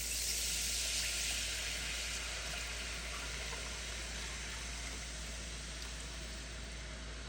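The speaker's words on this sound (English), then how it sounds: "go ahead and start deglazing with the wine" Wine poured into a hot pan to deglaze it for a braised beef cheek ragout gives a broad, steady sizzle that starts strong and slowly eases over several seconds, with no voices.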